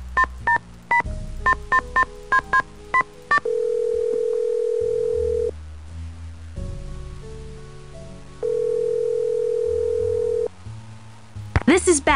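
Telephone in a Nancy Drew detective game: a quick burst of touch-tone dialing beeps, then two long steady ringback tones separated by a pause, loud and clean, with a brief clatter at the end.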